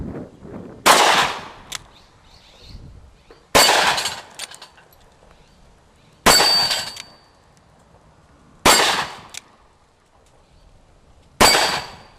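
Five loud, sharp gunshots from a Freedom Arms Casull revolver chambered in .45 Long Colt, fired at an outdoor range, spaced roughly two to three seconds apart, each with a brief echoing tail and no talk between.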